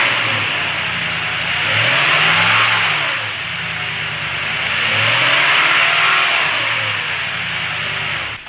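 A nearby 2016 Toyota Tundra 4.6L engine idles and twice revs up to about 2,000 to 3,000 RPM in smooth, rising swells before dropping back to a steady idle.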